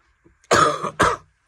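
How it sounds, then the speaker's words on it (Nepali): A person coughing twice in quick succession, close and fairly loud, in a quiet setting at a copper mine in Israel. "अलिकति खोकी लागेको छ।"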